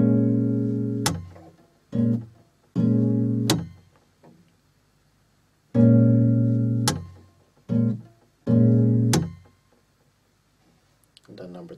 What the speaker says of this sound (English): So it's a pluck, slap, and then pluck, pluck, slap.